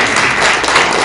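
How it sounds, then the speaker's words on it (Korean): A brief, loud burst of audience clapping at a political forum in a Seoul press center, a dense wash of hands filling the room for about a second. "많이 박수 치세요."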